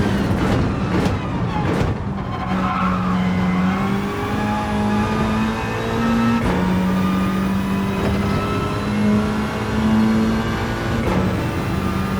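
Race cars lap Mount Panorama in Gran Turismo 7, a loud steady engine drone with shifting pitch as cars accelerate and change gear, several sharp clicks at the start, and no voices heard.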